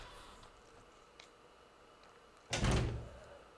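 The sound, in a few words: door opening in a video game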